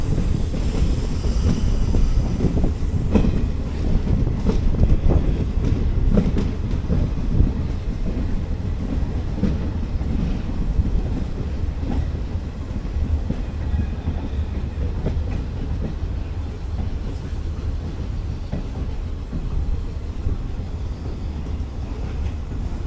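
DEMU diesel multiple unit train running on rails near a freight unloading facility approaching a junction, a steady loud rumble with rolling rail clatter and wind buffeting throughout.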